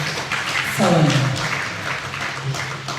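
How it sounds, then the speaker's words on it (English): A crowd at a book launch claps steadily in a broadband wash of applause, with a voice briefly rising over it near the middle. "Another round of applause."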